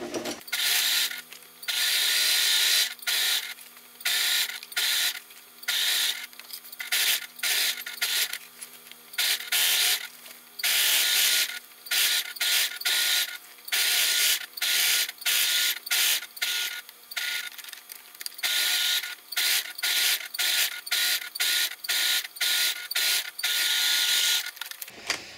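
Sewing machine stitching fabric for a bib apron, a fast mechanical whirring in repeated bursts with short pauses between runs, close and loud with no talking.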